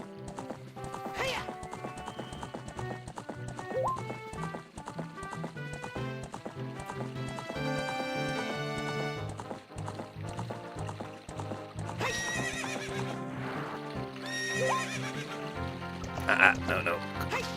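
In a video game, hooves clop and a horse whinnies over a busy bed of game music and effects, with a louder neigh near the end.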